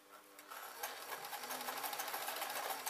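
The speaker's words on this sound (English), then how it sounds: "I can keep sewing" A sewing machine stitching a mop hat runs in a steady, fast whirring hum with a rapid mechanical needle rhythm, starting up after a brief pause and continuing evenly, fairly quiet and close.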